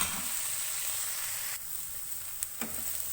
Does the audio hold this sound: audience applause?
no